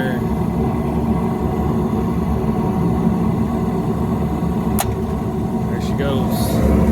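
A Carrier package rooftop unit's big blower motor runs with a steady, loud drone throughout, a little wobbly on its belt, while someone speaks briefly near the end.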